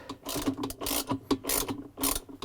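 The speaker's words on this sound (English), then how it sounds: "And I'm going to tighten the bolt." A ratchet tightens the center bolt on a Whirlpool, KitchenAid or Maytag washer agitator, producing quick bursts of sharp clicking pawl strokes in a steady back-and-forth rhythm, close and clear.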